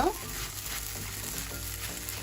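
Sabudana (tapioca pearl) mixture frying in a covered pan for a savoury snack, giving a steady, soft sizzle close by that holds evenly throughout with no talking.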